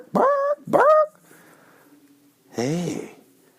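A voice imitates a dog barking, giving two loud, close yelping barks and then a third drawn-out, whining bark after a short pause.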